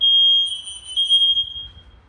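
A high-pitched smoke detector alarm, being tested with smoke, sounds in one continuous shrill beep that slowly fades, with faint low rumble underneath.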